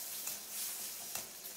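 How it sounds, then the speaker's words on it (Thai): Chicken skin fries in a pan to render out its fat for Thai chicken rice, giving a steady, fairly quiet sizzle broken by a few sharp pops and crackles. "เดี๋ยวเราเจียวหนังไก่กันเลยนะครับ"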